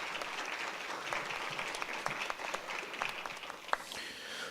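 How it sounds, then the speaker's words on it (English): Applause from a high school quiz-competition audience for the Notre Dame High School Crusaders, a steady patter of many hands in a hall, moderately distant and fairly soft, with a brief louder clap near the end. "A round of applause for our Crusaders"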